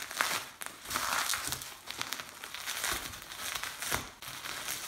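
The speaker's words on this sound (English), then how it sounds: "Good old bubble wrap." Bubble wrap inside the box of a rare Residents LP box set, Tourniquet of Roses, is pulled free and crinkled, giving a steady, close, crackling rustle in irregular bursts for several seconds, with no talking.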